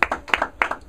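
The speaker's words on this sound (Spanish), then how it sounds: "Dale un aplauso al Señor." A church congregation claps in a quick, uneven series of sharp hand claps, about a dozen loud, close strikes bunched in small bursts, with no voices.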